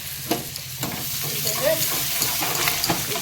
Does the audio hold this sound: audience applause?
no